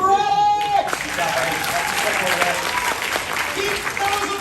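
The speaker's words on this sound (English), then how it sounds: "Keep those applause going for Eddie!" A live audience at a horror make-up show at Universal Studios Orlando claps in sustained, dense applause that holds steady throughout. A voice speaks briefly at the start.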